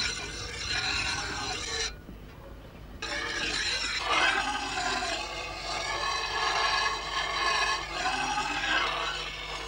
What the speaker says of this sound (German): mussten die Torfschippen geschliffen werden